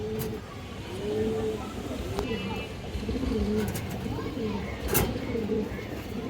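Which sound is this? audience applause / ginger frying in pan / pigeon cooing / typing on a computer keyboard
pigeon cooing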